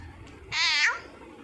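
A person imitates a cat with a single drawn-out, nasal meow, close and fairly loud, set against a quiet room background.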